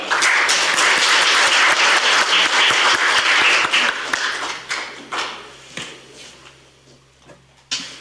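Audience applause at a Korean political seminar fills the first few seconds loud and dense, then thins into scattered claps and taps that fade toward the end.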